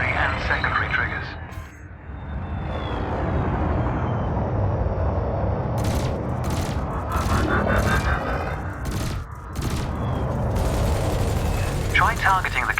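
Ship weapons in the space combat game Elite Dangerous, firing in a quick string of sharp bursts over a continuous engine rumble, while a voice speaks throughout.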